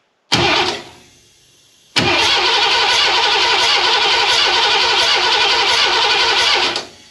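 A Ford 302 V8 in a van cranks over for a compression test with a gauge threaded into cylinder five, the starter churning in two loud, steady bursts, a short one followed by a longer sustained run, with no voices.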